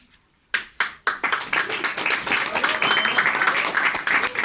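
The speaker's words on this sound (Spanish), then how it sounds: "Fuerte el aplauso para este primer texto" An audience claps after a poem reading at a poetry gathering, starting with a few sharp individual claps that quickly swell into steady, full applause filling the room.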